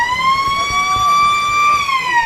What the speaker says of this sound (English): The siren sounds to begin the final stanza of this game.